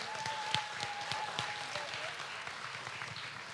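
Audience clapping for prize-winning exhibitors at a state fair swine show, a moderate crowd applauding with distinct individual claps and a faint tonal whine in the background, steady and somewhat distant.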